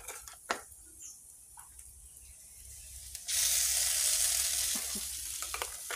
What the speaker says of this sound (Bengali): তো সামান্যই হলুদ গুঁড়ো দিয়ে দিব। কিছুক্ষণ একটু ভাজা ভাজা করব, দিয়ে সর্ষে দেব